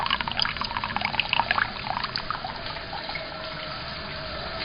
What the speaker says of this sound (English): the water that's coming out of it is just a very steady flow